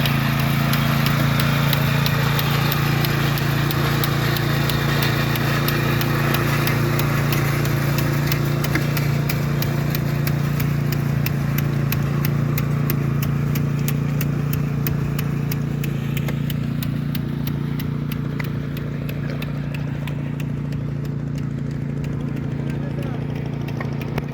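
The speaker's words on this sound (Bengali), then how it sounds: "এই মেশিনের নাম হচ্ছে রাস ট্রান্সপ্লান্টার কাম সার প্রয়োগ যন্ত্র" A rice transplanter with fertilizer applicator runs in a paddy field, a steady low engine drone with rhythmic mechanical ticking throughout, while someone talks over it.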